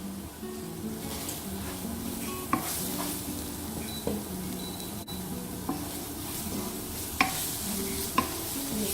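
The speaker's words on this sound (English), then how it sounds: "And you keep frying it" Masala and salt fry in a pan for a lamb kofta curry, a steady soft sizzle with occasional scraping stirs and light utensil taps, no talk.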